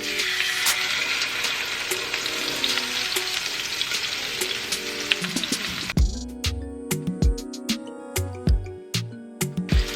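Steak sears in hot oil in a pot, a loud continuous hiss and crackle for several seconds, then giving way to a sparser rhythm of quieter pops and thuds.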